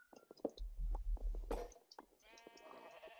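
Sheep in the Minecraft video game bleat several times in a quiet pen, short wavering calls at varied pitches alongside soft thuds and a faint squishy shuffle.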